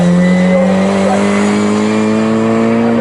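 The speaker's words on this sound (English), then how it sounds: "Then you've got these 4 cars onto the centre straight altogether, being led by David James with that much slower lap." MG Metro race cars racing at Snetterton during an MG Metro Cup race, with loud, sustained engine drones from several cars whose pitches shift slightly as they pass.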